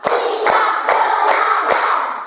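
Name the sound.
class clapping hands in a counting clap game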